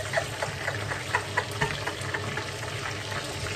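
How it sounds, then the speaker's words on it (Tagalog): Chicken feet fry in cooking oil with bay leaves and chili, a steady close sizzle and crackle with small pops scattered throughout. "Basta i-fried nyo lang siya muna sa mantika yan."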